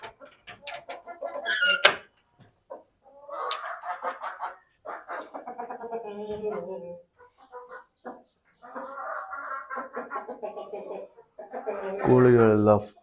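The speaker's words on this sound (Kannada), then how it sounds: "ಕೋಳಿಗಳೆಲ್ಲ ಫುಲ್ ಬಿಂದಾಸ್ ಆಗಿದಾವೆ" Chickens in a coop clucking in short bursts and cackles, close and fairly loud, with pauses between calls and a louder squawk near the end, while a person talks among them.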